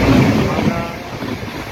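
Padatik Express passenger train running and slowing for a crossing, heard from inside a general coach as a heavy low rumble with wind rush, steady and loud throughout.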